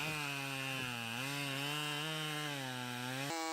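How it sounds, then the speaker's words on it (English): A Husqvarna 572 XP chainsaw cutting tropical hardwood in an Indonesian jungle, revving loud and close with a steady high whine that dips under load and surges again near the end. "The Husqvarna 572 XP emerges as the ultimate tropical logging force in Indonesia's jungles."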